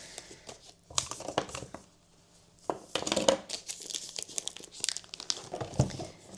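A parcel box of alcohol markers is unwrapped and opened, with close, loud crinkling and rustling of packaging paper or plastic in bursts, plus a few tearing rips and pauses between.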